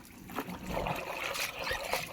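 Water trickling and splashing as a dyed saree is quickly lifted from and swished in a bucket of water, a close, continuous dribble with small splashes throughout.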